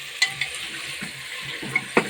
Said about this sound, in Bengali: এখন এসে আমি কিছুক্ষণ কষিয়ে নেব মাংসটা